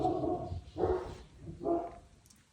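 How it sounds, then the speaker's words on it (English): A dog barks three times indoors at moderate distance, in evenly spaced, somewhat muffled barks with quiet gaps between them. "Bark, bark, bark."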